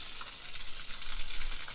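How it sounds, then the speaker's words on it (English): A residential fire hose set up for brush fire protection sprays a strong, steady stream of water outdoors, giving a continuous hissing rush with slight surges in force. "There's just a lot more water coming out now, and that travels way further."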